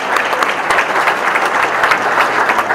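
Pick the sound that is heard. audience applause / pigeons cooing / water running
audience applause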